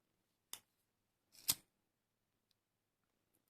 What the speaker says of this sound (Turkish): Uzatmış olduğumuz aradaki iplerimizi keselim.